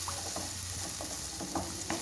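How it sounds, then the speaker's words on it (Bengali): Tora fish being fried and stirred with spices in a pan for a Bengali fish curry: a steady close sizzle broken by several light scraping stirs, with no talking. "মাছটার সঙ্গে মশলা দিয়ে কষাবো।"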